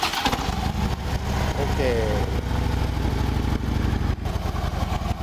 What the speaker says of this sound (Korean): 시동 한번 터뜨려 보죠.